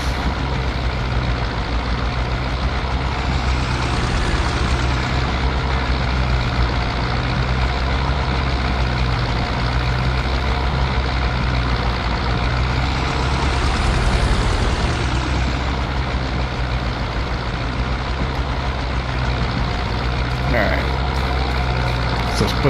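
A T25 tractor engine in Farming Simulator 22 drones loudly and steadily for the whole stretch, with a faint whine that rises and falls twice as the tractor accelerates, and no pauses.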